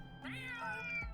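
A single drawn-out meow from a cat in the Trails Through Daybreak II video game rises and slowly falls over soft game music, clear and close.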